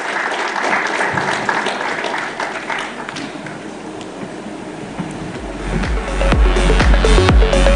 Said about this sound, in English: So please, can I have a round of applause for Mr. Swaminathan as he steps onto the dais?